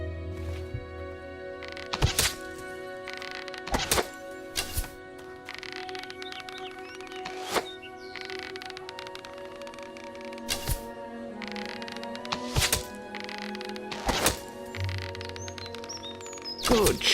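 Bow and arrows fire at targets in Fable Anniversary, a string of sharp, snappy thwacks spaced irregularly, roughly eight in all, over a soft tonal music bed.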